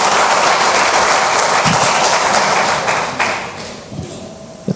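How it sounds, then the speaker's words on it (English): Applause from an auditorium audience at a pre-event gathering, a dense, loud wash of many hands clapping that holds steady and then thins out and fades toward the end, with a few scattered knocks. "Big round of applause to the sets team."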